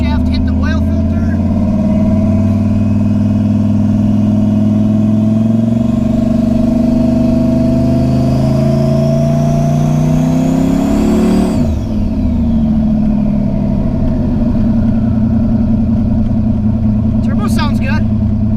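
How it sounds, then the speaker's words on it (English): A truck engine revs and accelerates with a rising turbo whistle that climbs, peaks, then drops off as the engine settles into a steady drone. "Turbo sounds good."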